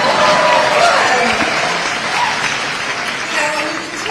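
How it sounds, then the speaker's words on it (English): A dense, loud wall of applause and cheering from a packed crowd at a union rally in New York City, sustained throughout and fading slightly at the end. "You don't clap for yourselves?"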